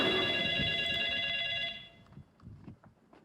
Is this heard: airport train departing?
no